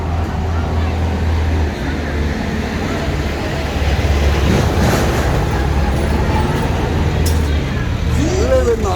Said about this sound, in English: there are too many cars in that street, which is the Via Dolorosa street